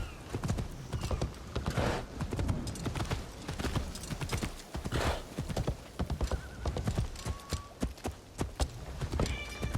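Horse hooves clip-clop steadily in a video game set in Japan, a close, rhythmic trot of repeated hoof strikes with occasional whinnies, running throughout with no talk.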